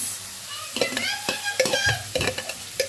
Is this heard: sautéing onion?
yes